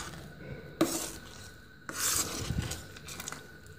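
Rava halwa scraped from a pan onto a plate: two bursts of rubbing, scraping utensil strokes against cookware, close and moderately loud, with quieter shuffling between them.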